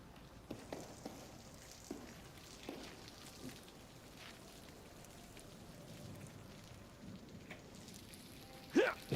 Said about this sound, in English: it is raining, but not heavy, and you can just hear the rain